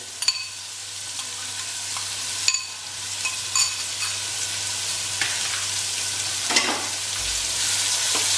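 Chopped onions fry in a pan for a mutton do pyaza curry, with a continuous bright sizzle and several sharp clicks of stirring against the pan, and no voices.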